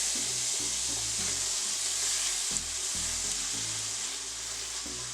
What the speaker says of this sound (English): Now I am adding 2 cups of chopped onions